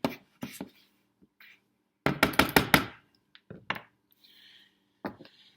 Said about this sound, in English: I'm going to just take my spatula real fast. I want to mix that up to combine all those dry ingredients